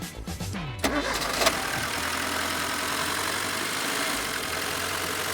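A car engine cranks briefly and catches, then settles into a steady, loud idle close by in an auto repair shop.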